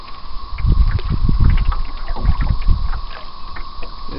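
Light wind of about 5 mph buffeting the microphone on a lake from a canoe, heard as irregular low rumbling gusts over a faint steady background.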